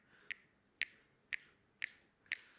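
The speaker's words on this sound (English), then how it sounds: "So when we are snapping our fingers together" Fingers snapping in a steady rhythm, five crisp, evenly spaced snaps about half a second apart, close and clear over faint room noise at a showcase event.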